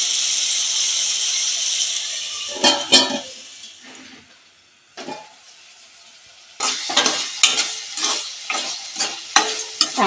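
Dry prawns with tomato and onion cooking in a pan: a steady sizzle fades, then loud spatula scrapes and clinks against the pan come in bursts, fast and close.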